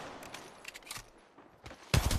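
Gunfire in the mobile battle royale Apex Legends Mobile: scattered faint shots early on, then a loud close burst of rapid fire at the very end.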